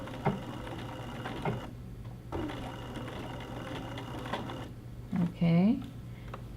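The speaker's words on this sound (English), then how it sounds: "I'm just going to go ahead and back stitch a little bit here." A sewing machine back stitching fabric for a gathering sample, running in steady mechanical bursts at close range with brief pauses between runs.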